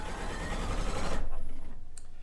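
A newly delivered sewing machine with a 12-inch throat stitches in a fast, rhythmic whir that stops abruptly partway through, leaving a quieter tail with a faint click.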